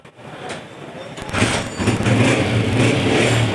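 A 2014 Honda 125 motorcycle is kick-started and settles into a steady, close idle, its low rumble continuous and loud after the first second.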